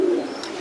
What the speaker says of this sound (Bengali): দামাসিনটা মোস্ট প্রবাবলি আপনার হাঙ্গেরি কবুতর মনে হয়।